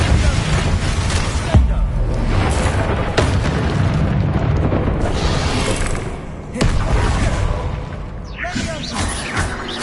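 Confringo and Bombarda spell blasts in Hogwarts Legacy crack and boom loudly one after another over a dense rumbling cavern din, with sharp impacts scattered through the whole stretch.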